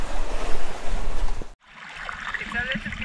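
Ocean waves wash onto a beach on Bonaire, a loud close surf rush with wind buffeting the microphone, cutting off briefly before a lighter, hissing wash of water returns.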